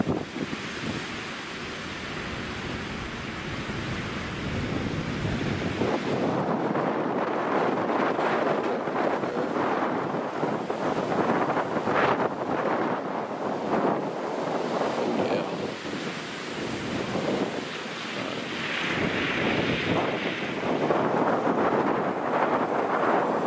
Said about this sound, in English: that wind is whipping